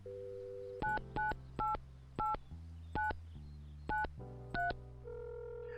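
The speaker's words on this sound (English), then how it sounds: "let's call Mom. So 555-2109" Telephone keypad tones beep in the video game Mon Bazou as a number is dialed, eight short evenly spaced beeps over a steady low hum, ending on a continuous tone.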